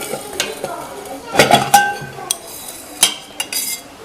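A metal spoon clinks against a cooking pot during home cooking, giving a short cluster of sharp, close clinks and knocks over soft background noise.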